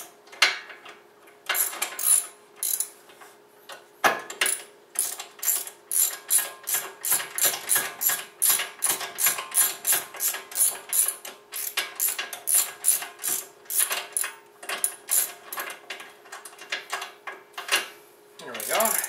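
Rapid ratchet clicking in repeated bursts as bolts are tightened while reassembling a Honda captive brake rotor, close and fairly loud, with a steady faint hum underneath.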